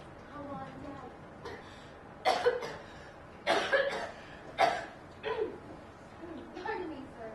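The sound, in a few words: cough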